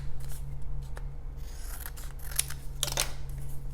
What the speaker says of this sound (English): take my scissors and trim